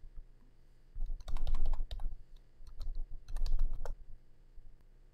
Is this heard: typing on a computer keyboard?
yes